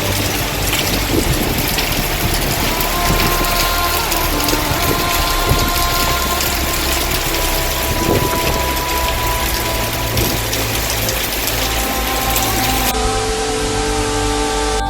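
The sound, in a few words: heavy rain storm outside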